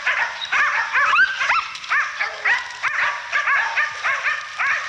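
A pack of hunting dogs yips, whines and barks in quick overlapping bursts at a big black boar, loud and close, with excited bays filling the whole stretch.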